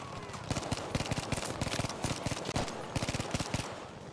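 Rapid automatic gunfire from a shooter video game rattles in dense bursts of sharp cracks, several volleys in quick succession at a steady moderate level with no talk over it.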